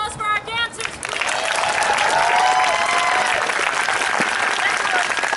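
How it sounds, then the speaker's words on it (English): An outdoor theatre audience applauds the dancers in a park, with crowd cheering and chatter. The applause swells after a brief spoken line, then holds loud and steady. "Let's have one more round of applause for our dancers, please."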